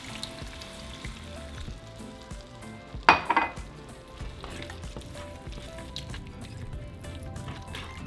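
Burrito filling with broth in a pan: a continuous low sizzle and bubbling, with one brief louder clatter of a utensil against the pan partway through, close and otherwise steady.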